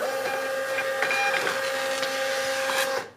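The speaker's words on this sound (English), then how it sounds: "we're just gonna go ahead and print out our label really quickly." A Munbin thermal label printer runs steadily for about three seconds as it prints a shipping label, a continuous mechanical whir with faint clicks, close by and alone before stopping abruptly.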